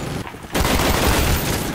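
In the Black Ops 1 video game, a sentry gun opens up. A brief quieter gap gives way to loud, continuous rapid gunfire that fills the rest of the moment.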